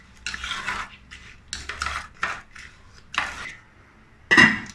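Rice being stirred with coconut milk, stock and water in a rice cooker pot, a few scraping, swishing strokes of a utensil against the pot, with one louder clatter near the end.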